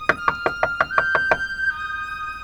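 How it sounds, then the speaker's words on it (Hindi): Rapid knocking on a door, eight quick raps in a steady rhythm, close and fairly loud, ending before a lingering tonal hum. "इबाद, दरवाजा खोलो जल्दी से"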